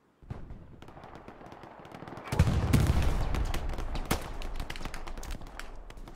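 Tank machine gun fire in a video game, a dense burst of rapid gunfire rising loudly partway through and continuing with scattered sharp shots.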